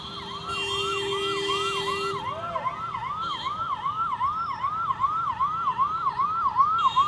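A wailing ambulance siren sweeps up and down continuously, loud and close, stuck in a traffic jam at Khajoori Chowk in northeast Delhi, with steady traffic noise rumbling underneath.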